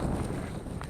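Strong wind blowing outdoors, a steady low buffeting roar that fills the whole second with no clear breaks.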